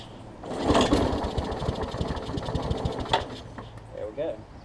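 Small MTD self-propelled push mower engine cranking and catching after a carburetor swap, with a rapid chugging pulse that sputters and fades near the end, heard close up.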